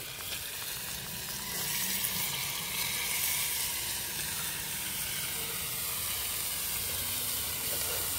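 Cut, washed ash gourd pieces drop into spiced oil in a pan for Bengali-style shrimp and ash gourd, with a steady, close frying sizzle and hiss that swells slightly and holds throughout.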